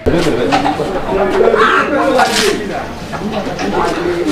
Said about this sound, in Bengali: এত চমৎকারভাবে কবুতরটা ডাকে